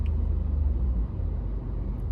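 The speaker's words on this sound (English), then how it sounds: "This traffic is crazy." Busy road traffic rumbles steadily and close by, a low, dense roar of passing vehicles with no voices over it.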